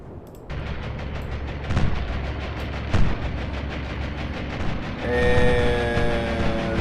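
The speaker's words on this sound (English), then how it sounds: "Secondary explosion on King George V" A secondary explosion aboard the battleship King George V in a naval video game: a sudden heavy blast opens a rumbling sequence of repeated booms, followed by a rising tonal alarm-like whine near the end.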